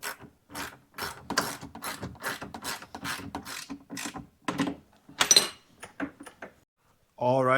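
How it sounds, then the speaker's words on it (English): A ratchet clicks in short bursts as bolts are tightened while fitting a flip-up rear seat on a golf cart, close by, with pauses between bursts. "All right, put the bolts in."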